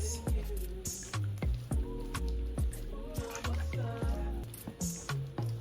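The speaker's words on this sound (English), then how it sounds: "So I have to use my spoon to keep stirring, and the juice keeps coming out" Spoon stirring wet juice pulp as juice seeps out, giving a run of soft squelching, dripping plops at an uneven rhythm, close and fairly quiet.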